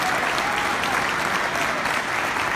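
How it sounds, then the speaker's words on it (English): Sustained, even applause from a large gala audience, a continuous roar of many hands clapping at steady volume with no pauses. "Everybody give a big round of applause."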